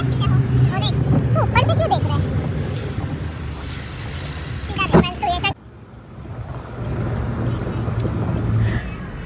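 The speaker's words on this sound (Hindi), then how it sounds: "तो अब गाड़ी आ चुकी है," A car arrives for a family outing to a mall, its engine and road rumble mixed with heavy wind buffeting and background voices, with a sharp bump midway before the noise settles.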